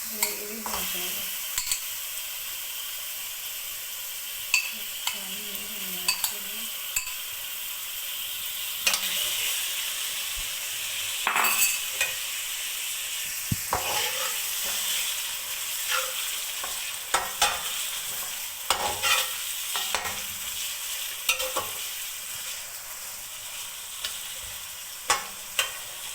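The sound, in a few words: chicken and garlic sizzling while frying in a pan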